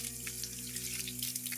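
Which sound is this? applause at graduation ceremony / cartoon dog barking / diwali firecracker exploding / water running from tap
water running from tap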